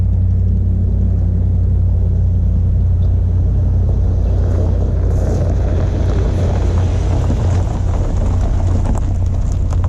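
A 2020 Audi A3 45 Quattro S Line drives with a steady low engine and road rumble, heard from inside the cabin, loud and continuous with some wind buffeting and no talking.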